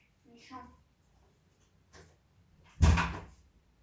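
A bedroom door is pushed shut in a home with a single loud thud, preceded by a brief voice and faint rustling.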